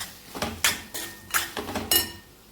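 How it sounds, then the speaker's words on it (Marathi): A spoon mixes salt into drumstick bharta in a metal vessel, giving five sharp, close clinks and scrapes in uneven succession with no talking. "व्यवस्थित मिक्स करून घ्यायचं आहे आपल्याला।"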